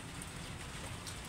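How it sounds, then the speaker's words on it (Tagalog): Steady rain pouring down outdoors, a soft even hiss of drops on surfaces that stays constant throughout, fairly quiet and with no voices. "Umuulan na."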